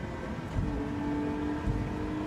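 Nissan VQ V6 engine in a racing game like Gran Turismo 7 or Forza Motorsport, a sustained brassy hum with a steady harmonic tone and faint rumbling swells, heard alone at moderate level.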